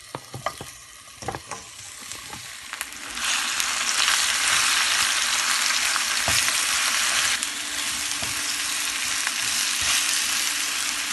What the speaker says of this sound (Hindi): अब इसमें डाल देंगे खजूर।